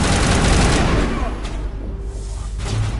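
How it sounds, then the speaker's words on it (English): Loud, dense bursts of rapid gunfire with booming low rumble, continuous and close, from the video game Mass Effect Legendary Edition. "Oh, the gunshots are loud in my ear."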